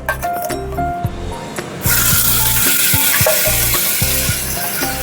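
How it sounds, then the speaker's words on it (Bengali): Spice paste hitting hot oil tempered with black cumin seeds for a Bombay duck curry, a loud sizzle bursting in and holding steady after a few clinks of utensils, close and dominant. "এইবার আমি এই মশলাটা কষিয়ে নেবো তেলে"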